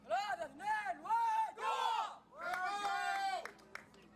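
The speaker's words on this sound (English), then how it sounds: "Abdulrahman Al-Musa geeing the supporters, the Saudi Arabian supporters in the crowd on to cheer them on" Saudi Arabian supporters in the crowd at a recurve men's team archery gold match, India against Saudi Arabia, at the 2023 Asia Cup, chant and cheer in loud rhythmic bursts, with several rising calls in a row followed by a longer sustained shout.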